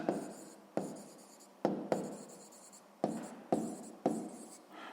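A pen writes down a math answer on paper, producing six or seven close, crisp scratching strokes, each starting sharply and fading, separated by brief silences, with no talk.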